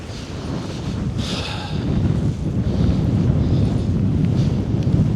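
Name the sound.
wind blowing into the microphone outdoors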